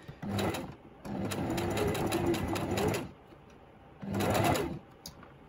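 Sewing machine running close by in bursts while topstitching beside a zip: a long steady rattling run and a shorter one, with pauses between and no talking.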